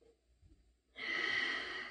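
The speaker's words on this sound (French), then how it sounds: "Quelques respirations." After a yoga headstand, near-silence gives way to one long, soft exhale that rushes out and holds for about a second, faint and close.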